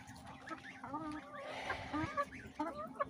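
Backyard hens cluck softly and close by in short irregular calls, with someone talking quietly over them.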